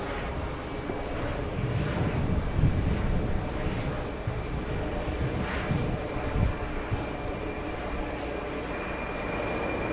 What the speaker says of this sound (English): On the takeoff roll.